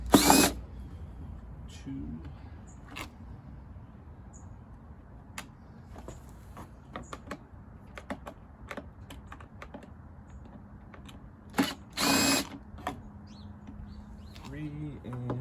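A power screwdriver backs out the cover screws on a Schroder backpack unit that has a stuck throttle, with two short, sharp whirring bursts, one at the start and one near the end, amid scattered clicks and brief talk.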